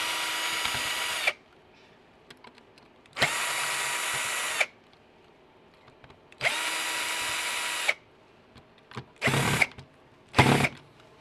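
A power screwdriver whirs in three sustained bursts, then two shorter spurts, backing out the screws on a Nintendo DMG Game Boy console during disassembly, close and loud between brief pauses.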